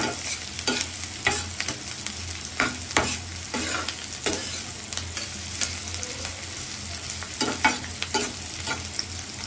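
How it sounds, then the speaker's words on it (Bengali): Chopped onions fry in a pan until reddish-brown, a steady close sizzle broken by repeated scraping stir strokes at irregular intervals, with no talking. "পেঁয়াজটা আমি লাল লাল করে ভেজে নেব"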